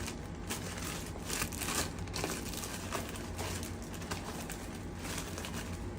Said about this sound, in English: we're gonna put it in a plastic bag